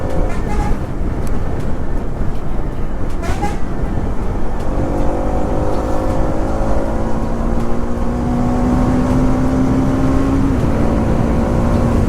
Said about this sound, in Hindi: ये बाइक का जो प्योर साउंड आता है ना भाई, 5000 RPM के बाद मज़ा आ जाता है।